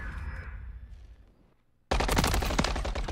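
Call of Duty MW3 gunfire in a Search & Destroy match: a faint quieter stretch drops almost to silence, then a loud, abrupt burst of rapid automatic shots fills the rest.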